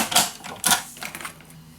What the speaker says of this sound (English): And let's make another fold line.